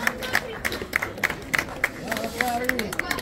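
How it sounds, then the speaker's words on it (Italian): Crowd clapping for a women's cycling world champion at an autumn race award ceremony in Lonate Ceppino, with sharp irregular claps over steady murmuring chatter and voices. "applauso!"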